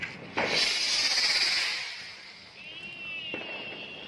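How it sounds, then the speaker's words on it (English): A firework hisses in a steady, bright spray that lasts about two seconds, fades, then a thinner whistling hiss starts, at moderate loudness with no voices over it. "Oh, Firework gone wrong."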